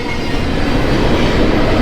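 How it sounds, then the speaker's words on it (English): A Union Pacific freight train rolls past beside the Truckee River, its heavy, steady rumble of wheels and cars loud and close, with no pause and no voices. "This is a big train"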